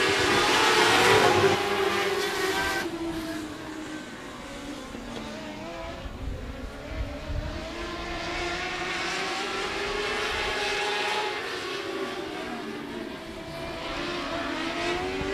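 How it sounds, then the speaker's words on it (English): Mod Light race cars roar through a green-flag heat race at 105 Speedway, their engines a loud, continuous pack drone whose pitch swells and dips as the cars accelerate and pass. "and we are green flag racing."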